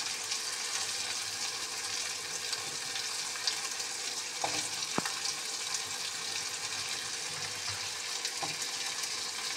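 Potatoes and eggplant sizzle in a hot pan of oil as they cook, a steady close frying crackle with a few sharp clinks of a utensil against the pan.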